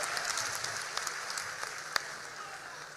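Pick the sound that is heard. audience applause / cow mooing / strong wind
audience applause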